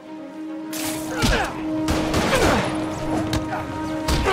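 Rapid gunfire from the Spider-Man Remastered video game: a dense fusillade of sharp shots and crashing impacts crackles steadily through the clip, close and loud, with shouted game voices mixed in.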